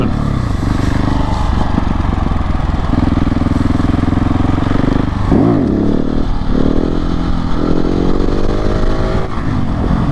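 A KTM 690 SMC R motorcycle engine fitted with a 15-tooth sprocket runs steadily while riding, loud and close, with a sharp rev swell midway and then continued throttle changes, and no voices are heard.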